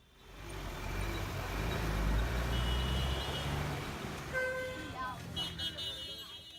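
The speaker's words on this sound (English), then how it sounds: "The main street is just like any other town or suburb, with street sellers, noisy traffic, delivery vehicles and taxis." Noisy main-street traffic in Dharavi, with a rumbling engine and passing vehicles building up, then reversing beeps and horn-like tones cutting through the din.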